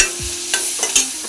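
Tomato is tipped into a hot frying pan and stirred for a Marathi bhakri churma, giving a close, loud sizzle broken by a few scraping spoon strokes, with no talking.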